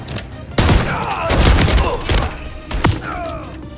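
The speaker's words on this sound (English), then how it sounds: "I must say, the shooting in this game does feel stellar. That shotgun packs some heat" A shotgun firefight in Modern Warfare 3, with several loud, booming blasts and thuds close together, some echoing tails and clattering in between, and a final heavy shot before quieter mechanical sounds.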